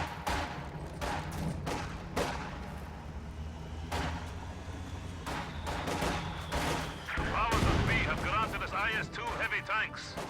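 Heavy gunfire and explosive booms fill a tank battle video game, with repeated sharp shots, some rapid bursts and rumbling blasts, while someone talks over the action.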